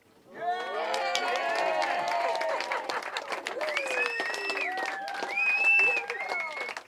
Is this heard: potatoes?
no